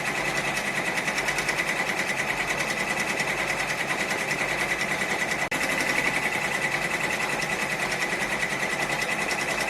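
An embroidery machine stitches a butterfly design at 700 stitches per minute, a fast, even mechanical chatter running steadily throughout, loud and close, with one brief click near the middle.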